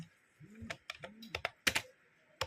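Scattered keyboard clicks in short bursts, close by, with a few soft tonal hums between them and quiet gaps.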